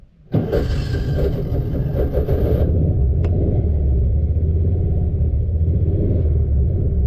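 A 2016 Kawasaki Mule 610 utility vehicle engine cranks and catches, then struggles into a loud, rough, uneven low idle that rumbles steadily close by.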